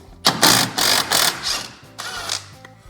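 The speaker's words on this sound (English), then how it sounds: "So let's remove these 2 21 millimeter nuts." A ratchet wrench backs off two 21 mm nuts holding a ball joint on a 1998–2011 Ford Ranger, making several quick close bursts of rapid clicking separated by brief pauses.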